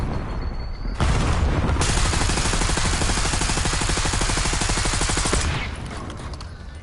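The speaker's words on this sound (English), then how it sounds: "I'm gonna throw a grenade over there" Rapid automatic gunfire and grenade blasts from a Call of Duty battle, with a sustained loud burst of rattling shots lasting several seconds, then fading, with no voices heard over it.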